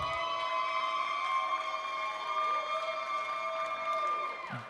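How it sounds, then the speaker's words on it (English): Crowd noise with whistles and sustained tonal cheering at a chessboxing world championship bout between France and Russia, a steady roar from the arena audience, moderately loud and continuous. "Big pop from the Russian crowd here."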